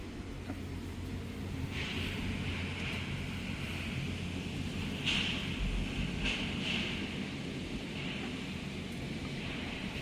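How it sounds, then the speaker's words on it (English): Strong storm wind blowing outside on an island in the Philippines, a steady loud roaring rush with a low rumble and occasional higher gusting whooshes. "You can hear the wind now."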